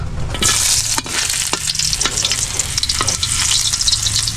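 Ginger frying in a hot pan, a loud, close, continuous sizzle with repeated scraping strokes from stirring and no voices.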